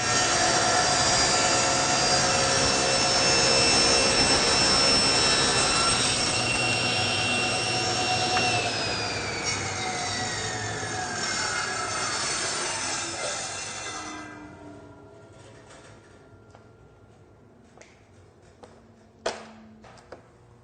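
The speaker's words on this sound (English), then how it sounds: "we can go ahead and cut the third and the fourth sides with no further adjustment needed." A table saw cuts a taper on a table leg using a sled. Its loud, steady motor whine and cutting roar slowly wind down in pitch and fade, followed by a few faint knocks and clatters.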